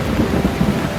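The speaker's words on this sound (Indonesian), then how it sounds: "Hujan lebat dan petir masih saja belum berhenti." Heavy rain falling steadily during a thunderstorm, with low rumbling thunder under a dense, continuous wash of rain, loud and close with no voices.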